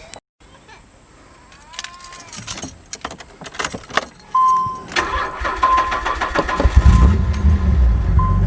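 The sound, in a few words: keys jangling while searching for car keys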